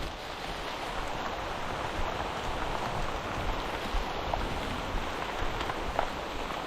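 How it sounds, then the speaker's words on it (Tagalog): Rain pours down steadily and evenly, a dense hiss of drops drumming nearby surfaces with no speech over it. "Tama po, talagang naulan."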